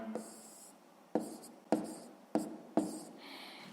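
Pen scratches across paper as a ratio is written out by hand for a sixth-grade maths exercise, quiet and close, with soft strokes and several distinct taps, and no voice.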